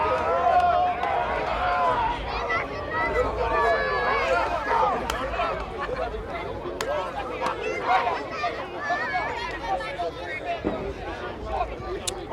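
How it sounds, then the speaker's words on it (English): Crowd of spectators at a nighttime high school football game just before kickoff, a steady outdoor babble of cheering and chatter throughout with occasional sharp shouts. "Got a nice little crowd out here tonight, too, rooting on these two teams."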